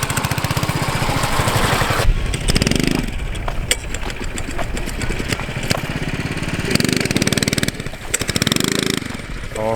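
An off-road go kart fitted with a 420cc engine drives through mud, its loud engine rumbling and revving in uneven bursts close by, with sporadic clatter and occasional voices.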